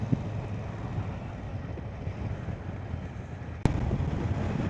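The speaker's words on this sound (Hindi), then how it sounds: "हवा बड़ी तेज़ चल रही है आज।" Strong wind blows steadily outdoors on a cool day, a constant broadband roar with a sudden buffeting gust near the end and no voices.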